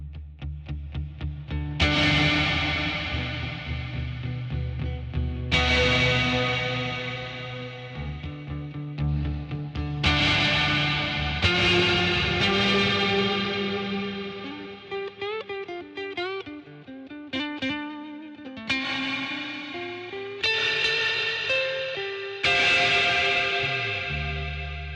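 Electric guitar strummed in loud chords through effects with distortion, echo and chorus, the signal swelling on harder strums; several ringing chords with decaying tails and a busier passage in the middle, no talking.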